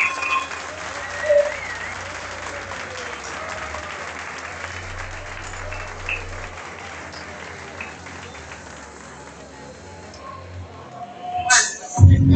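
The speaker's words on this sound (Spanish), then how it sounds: "Un aplauso" Audience applause at a kayak surf world championship closing ceremony in Argentina, sustained clapping from a crowd that slowly fades, with a burst of louder noise at the very end.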